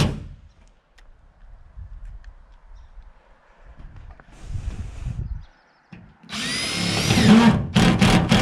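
A power drill drives screws into a post and beam barn kit roof, first as faint, scattered bumps and handling noise, then in loud, close bursts of whirring near the end.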